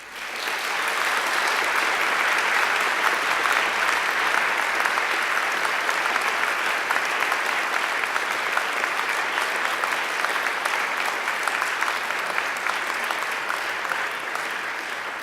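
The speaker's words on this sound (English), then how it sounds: "And now I invite you to give them a mighty round of applause." Graduates at a graduation ceremony give a sustained round of applause to their families and friends, steady and dense from start to finish with no speech.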